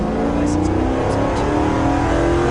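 A speeding car passes on a road at night, its loud engine roaring steadily and close for a couple of seconds, with faint voices under the noise.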